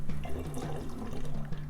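Vinegar pours through a funnel in a steady liquid trickle and gurgle, close by and fairly quiet, with no talking.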